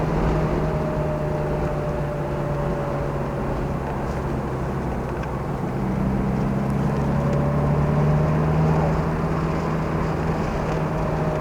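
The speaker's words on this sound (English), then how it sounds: "I love that sound to it. Smooth engine." A vintage Ford Mustang engine runs steadily on a race track at a Chicago vintage Mustang club gathering. It is a continuous, loud, droning rumble with no break and no voices.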